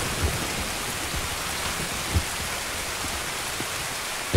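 Steady heavy rainstorm hisses across the Shoreline map in Escape from Tarkov, a dense, constant wash of downpour with a few soft low thumps, no voices.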